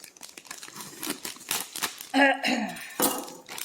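A knife saws and taps into the plastic bag of a Gobble meal kit for gochujang-glazed pork stir-fry, making a run of close, sharp clicks and rustles with a brief burst of clatter midway and a voice nearby.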